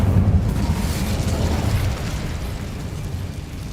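An Incendio fire spell cast in Hogwarts Legacy bursts into a loud, dense, rumbling roar of flame that fades gradually over a few seconds, with no voices heard.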